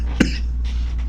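A single short cough from a person with allergies, close and brief, over a steady low hum with no talking.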